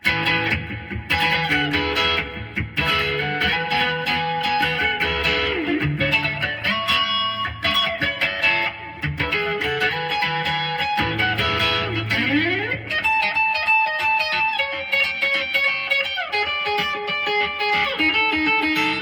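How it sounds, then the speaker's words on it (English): Distorted electric guitar playing a bright run of double stops and sliding sixths, continuous and fairly loud, with audible slides between chords. "just a super fun combination of double stops and sliding sixths"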